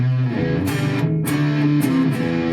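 An electric guitar through a Boss Katana 100 amp on a custom fuzz setting plays a brief run of fuzzy, sustained notes with sharp pick attacks, loud and alone.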